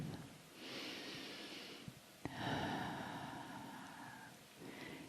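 Slow, close breathing during a guided meditation: long, airy inhales and exhales with a short catch partway through, alone with no talk.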